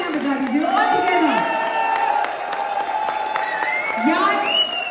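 A crowd claps steadily throughout while a loud amplified voice speaks over the applause.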